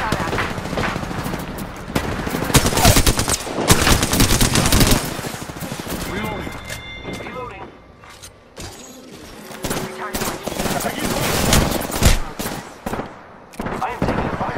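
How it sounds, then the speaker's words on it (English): Rapid automatic gunfire from an Apex Legends firefight, loud dense bursts and volleys cracking close by with brief lulls, occasional voices underneath. "I am taking fire, friend."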